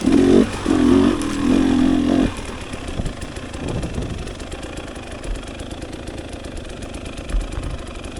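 A two-stroke motorcycle engine idles nearby at a motocross practice track, loud and steady for about two seconds before dropping to a quieter, uneven background rumble.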